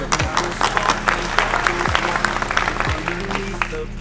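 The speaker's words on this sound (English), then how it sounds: "let me give you my applause." Applause from a crowd at a DAV national convention in Phoenix, Arizona, steady and dense for about four seconds, with sustained music or tones running underneath.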